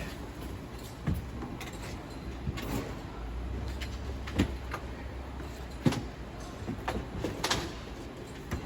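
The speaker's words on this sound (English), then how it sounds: "Pull the door back." Door of a 2021 Clipper 9.0 CPC express camper trailer, strapped to the bed, is pulled back out, making scattered clunks, knocks and sliding scrapes at close range over a low background hum.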